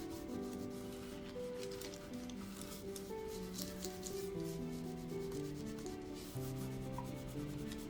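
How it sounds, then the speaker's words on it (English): An iron rubs back and forth over parchment laid on a beeswax-soaked cloth wrap. The steady, close scraping and rubbing runs continuously over a tonal background. "Going with the iron again so that the excess wax is absorbed by the second wrap."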